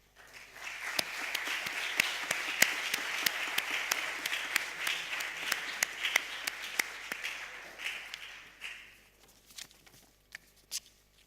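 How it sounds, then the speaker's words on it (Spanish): Applause from a conference audience for Isidro Fainé: dense, steady clapping that thins after about eight seconds into a few scattered, isolated claps. "quiero un gran aplauso para Isidro Fainé"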